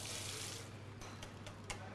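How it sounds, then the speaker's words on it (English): Hot water is poured into homemade mayonnaise made with vinegar, giving a faint, close trickle and splash of liquid over a low steady hum, with a few soft clinks near the end. "And now I put my hot water in, and that thins it back and stabilises it."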